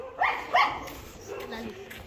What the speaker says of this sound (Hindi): पूरे मोहल्ले के कुत्ते जाग रहे थे, बहू बहू कर रहे हैं